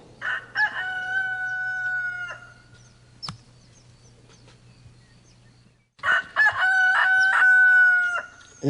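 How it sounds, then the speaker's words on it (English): A rooster crows on a farm in the morning, two loud, close cock-a-doodle-doo calls separated by a few seconds of quiet, with a faint low hum under the first call. "I haven't woken up to a rooster in a long time"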